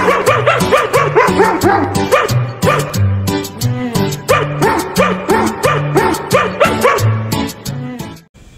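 Dogs bark and yip in steady repeated bursts, loud and close, filling the whole stretch with rhythmic barking and occasional whimpering tones before cutting off near the end.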